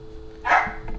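Dogs bark indoors in the background, one short, clear bark of moderate loudness standing out over a quiet room hum.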